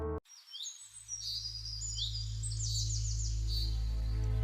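Small pet pigeon chirps and twitters in quick, high runs, fairly faint, over a steady low hum that grows louder, in a cartoon.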